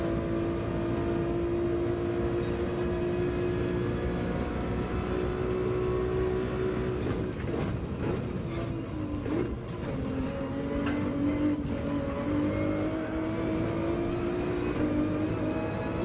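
Race cars in a GT3-class racing video game at Brands Hatch, engines droning steadily and loudly throughout with shifting pitch as cars accelerate and jostle for position, no voices over the sustained roar.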